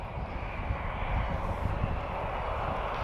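Airliner arriving at Lisbon Airport on a flight from Praia, a steady broadband engine roar with a deep low rumble, loud and continuous throughout with no talk.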